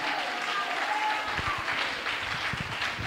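A church congregation at a Sunday service applauds steadily, a dense, continuous wash of clapping from many hands filling the room.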